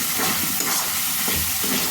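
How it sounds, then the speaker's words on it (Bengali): Green chicken curry being stirred in a pot after garam masala and cumin go in, a dense continuous sizzle and wet churning close up, loud and unbroken for a couple of seconds without any talk. "এখন ওই মশলাটা দিয়ে একটু নাড়াচাড়া করে নামাইতে হবে।"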